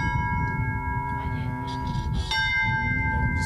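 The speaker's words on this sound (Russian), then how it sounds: "как сейчас пасхальные у нас колокольные звоны, мотивы, да, то есть возвещают о воскресшем Христе" Easter church bells ring out in a steady, sustained peal, their long tones overlapping, with a fresh strike near the middle of the clip.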